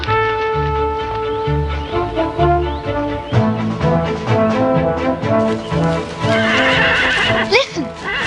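Music plays throughout while a horse whinnies loudly near the end, with faint hoof clops mixed in.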